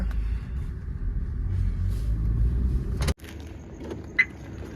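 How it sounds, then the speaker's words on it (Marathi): A car pulling into a parking spot, a low steady engine rumble from inside the vehicle that cuts off abruptly, followed by quieter cabin sounds and a brief small clink. "चला आता आपण गाडी लावू पार्किंगला"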